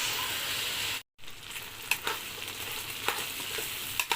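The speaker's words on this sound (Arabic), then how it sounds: "هشوحه الاول كده. بصوا بقى البصل مع الجزر يدي الرز منظر حلو قوي" Rice being stir-fried in a pan with onion and carrot, a steady close sizzle with scattered scraping stirs and a brief dropout partway through.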